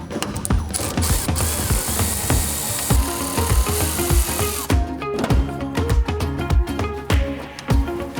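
A hand ratchet rapidly clicks while backing out the bolts holding a Toyota Tacoma's taillights, with loud, close, repeated bursts of pawl ratcheting and metallic clunks between strokes.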